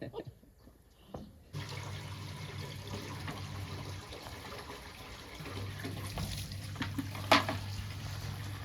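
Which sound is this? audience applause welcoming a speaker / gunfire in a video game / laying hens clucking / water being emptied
water being emptied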